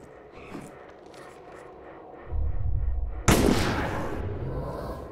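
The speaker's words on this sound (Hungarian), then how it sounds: "Azt a micsoda lövések." Gunshots ring out in the PC video game The Last Case of Benedict Fox, a deep booming rumble that builds and then a sharp loud blast with a long echoing decay, with no talk.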